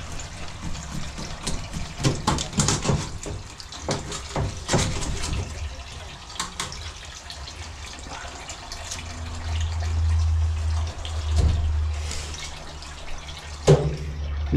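Freshly caught trout being rinsed under running water, with uneven splashing and trickling, intermittent handling noises and drips, and a low steady gush of pouring water in the latter half.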